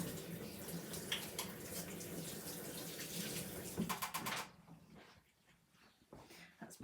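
Running tap water splashing over hands at a sink for several seconds, steady and close, then cutting off, after which faint drips and small handling sounds follow.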